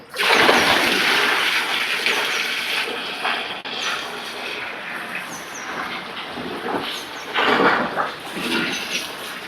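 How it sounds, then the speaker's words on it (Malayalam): Milk-mixed water pours steadily and splashes into a vessel close by, a continuous rushing gush that swells and eases over several seconds. "ഇനിയിപ്പോൾ പാല് കലക്കിയിട്ടുള്ള വെള്ളം ഒഴിക്കാൻ പോവുകയാണ്"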